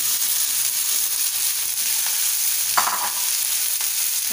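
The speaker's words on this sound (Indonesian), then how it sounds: "Bahan-bahan tadi akan kita goreng seperti cabai," Chili, shallots and tomato fry in oil, giving a steady, loud sizzle throughout, with a few brief scraping stirs of a utensil in the pan near the end.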